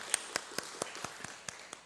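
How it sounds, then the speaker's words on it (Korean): During a Sunday worship service, a congregation gives a faint, sparse round of clapping: about nine distinct, evenly spaced claps in a quiet room. "우리 한번 다 같이 수고하셨다고 박수 한번 하시겠습니다."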